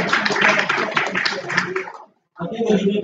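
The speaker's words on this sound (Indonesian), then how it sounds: "Kita kasih tepuk tangan kepada sekarang pemerintah dan Prof." Audience applause for Prof. Jawahir at a law faculty book discussion at FH UII, dense clapping filling the room for about two seconds, then a short gap before further clapping and noise resume.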